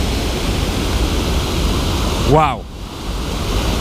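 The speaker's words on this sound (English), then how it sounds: "This waterfall was raging the last time I was here, and it was pretty much unfishable, but it is looking excellent right now" A waterfall on the Hop River in Connecticut pours with a loud, steady, close roar of rushing water, broken briefly by a short exclamation from a voice.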